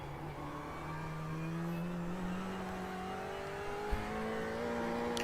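A Ferrari race car in a racing video game, its engine droning steadily with rising and falling harmonic pitch as it accelerates through gears, moderately loud and continuous, one brief thump near the end.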